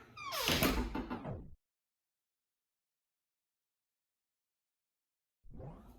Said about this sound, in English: when you shut the door